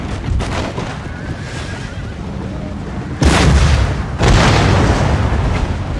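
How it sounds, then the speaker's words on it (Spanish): Cannon fire with grapeshot in the Empire Total War battle game: two heavy booming blasts a second apart, loud and close, over battle noise and horse whinnies, with someone talking before the shots. "Disparar la metralla, venga."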